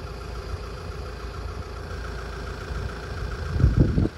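A Vauxhall diesel engine idles with a steady low rumble, then is throttled near the end, giving a brief louder surge of revs that falls back off, close by and heard without talk.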